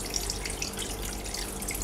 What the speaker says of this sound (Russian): Ну, это мой водопадик.